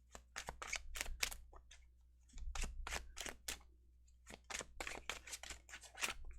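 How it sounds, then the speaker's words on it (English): Tarot cards being shuffled make quick bursts of crisp, snappy riffling clicks, close and fairly quiet, in several clustered runs with brief pauses between. "it also took forever for the cards to shuffle"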